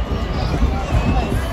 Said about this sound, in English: Finally, the fans have something to cheer for.